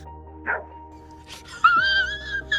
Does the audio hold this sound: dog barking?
yes